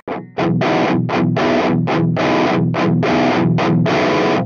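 Distorted electric guitar through an amp with the treble raised on the tonestack plays a chugging rhythm of short and sustained chords, loud and gritty with brief gaps between strums.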